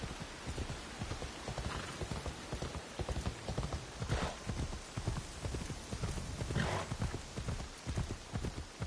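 Horse hooves clip-clop rhythmically at a steady running pace in Assassin's Creed Shadows, close and continuous with a faint rain-like hiss beneath.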